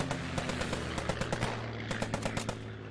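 Enemy machine gun laying down suppressing fire in the WWII shooter Post Scriptum, rapid bursts of sharp cracks at a steady quick rhythm, a short pause, then another burst, over a low engine-like hum, no talk.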